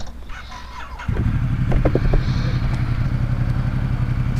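A KTM 390 Adventure motorcycle rides up onto curbs, its engine starting abruptly and then droning steadily and loudly close by, with a few sharp knocks as it bumps over the edges.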